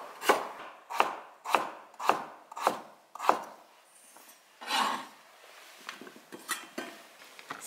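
A knife chops vegetables, potatoes among them, finely on a board for miso soup: six crisp, evenly spaced strokes, then a looser run of softer, quicker cuts, all close up with no voices.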